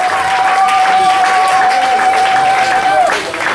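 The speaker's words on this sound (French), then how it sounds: "Sous nos acclamations." An assembly audience applauds and cheers in a dense, steady, loud roar that continues throughout and eases slightly at the end.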